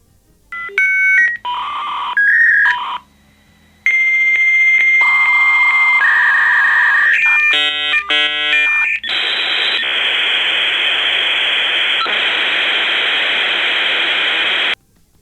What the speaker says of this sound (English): How many of you remember the sound of the modem?